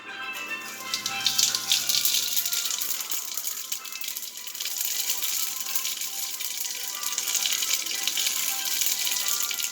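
Whole geera (cumin seeds) crackling and popping in a pot of hot oil over medium heat, a steady dense sizzle with quick pops throughout, close and fairly loud with no talking.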